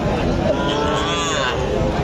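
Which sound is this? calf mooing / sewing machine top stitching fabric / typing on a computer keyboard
calf mooing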